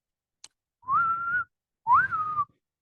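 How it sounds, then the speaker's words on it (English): Local dolphins off Shackleford Banks give two signature whistles recorded underwater, each a clear rising-then-level tone about half a second long, separated by a short gap, after a brief faint click. "a 20-second sound clip of some of our local dolphins"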